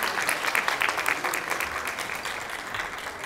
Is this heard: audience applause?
yes